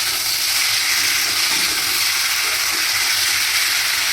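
Tomatoes sauté in hot oil for tomato thokku, giving a steady, even sizzle and crackle that runs unbroken throughout with no voices over it.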